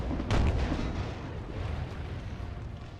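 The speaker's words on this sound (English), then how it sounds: "Artillery is hitting me hard." Artillery fire from a Napoleon Total War multiplayer battle with an American Civil War mod, heard as a loud booming blast near the start, then dense rumbling cannon and gunfire that continues without a break.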